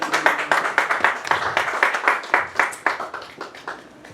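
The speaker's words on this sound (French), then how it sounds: "On peut les applaudir." A church audience applauds, with rapid, dense hand clapping close by that holds steady, then gradually thins and softens toward the end.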